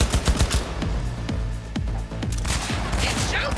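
Rapid automatic gunfire in the video game Cyberpunk 2077, loud close bursts of repeated shots with brief pauses between volleys, ending with a short whine.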